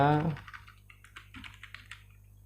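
Light keystrokes tap on a computer keyboard in an irregular run of soft clicks, close and fairly quiet, following a brief voice at the start.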